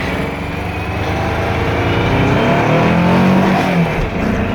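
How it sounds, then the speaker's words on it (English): A loud Volkswagen Type 4 Beetle engine with an old turbo muffler revs hard and steadily, climbing in pitch and holding near the top as the limiter cuts in, with no talking. "you can barely hear the rev limiter engaging"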